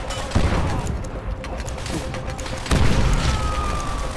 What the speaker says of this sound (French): Grenade à terre.